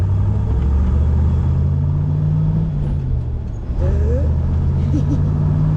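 A Corvette C1 engine accelerates through its gears with a loud, steady rumble that dips and climbs again at each gear change, and a voice is heard briefly.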